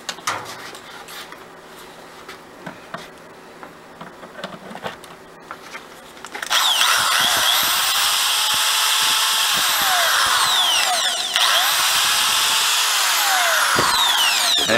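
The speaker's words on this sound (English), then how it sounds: "we're going to try a 4 amp corded drill" A 4 amp corded drill, powered through a 750 watt Black and Decker power inverter, starts up after quiet handling noises. It whirs loudly and steadily for several seconds, with its pitch rising and falling as the speed changes.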